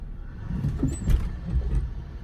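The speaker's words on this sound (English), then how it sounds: "I'm gonna hit the gas, and then I'm gonna hit the brake. So look how the car jumps." A Toyota Avalon rumbles as it accelerates and then brakes, with low engine and road noise swelling and a brief clunk from the suspension near the middle; no one speaks.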